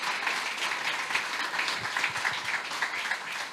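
Audience applause after a talk on crypto and the metaverse, fairly faint, even clapping from a room of listeners, steady throughout with a few softer thumps.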